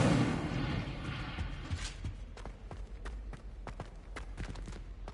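Incendio fire spell cast in Hogwarts Legacy, a loud whooshing burst at the start that fades into scattered crackles and thumps.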